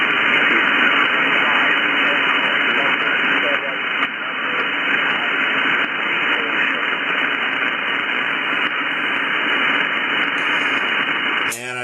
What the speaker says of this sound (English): I got some QRM going on over here, though. I got some people on adjacent frequencies.